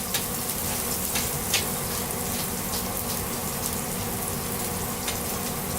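Food softening and sizzling in a screaming hot pan while pan-searing chicken, a continuous loud, crackly fry with scattered pops and spits throughout.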